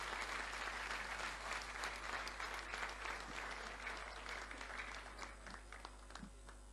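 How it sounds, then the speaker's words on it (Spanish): Strong applause fills a hall during a formal legislative honor session, many hands clapping in a dense, sustained roar that eases slightly near the end, over a constant low electrical hum. "Fuerte los aplausos."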